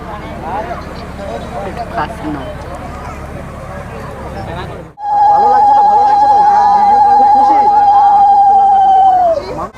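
Talk and street noise at a Durga Puja festival in Ranaghat fill the first half, then a loud, steady police car siren wail starts abruptly and holds close and continuous to the end.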